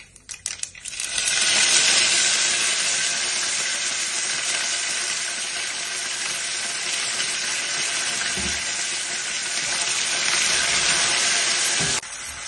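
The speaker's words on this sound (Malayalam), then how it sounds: "കടുക് നന്നായി പൊട്ടിത്തെറിഞ്ഞതിന് ശേഷം നമുക്ക് കറി ലീവ്സ് ഇടാം" Steady, loud sizzling of mustard seeds and curry leaves frying in hot oil, a bright crackling hiss that holds for several seconds with a few sharp pops and a brief clatter near the end.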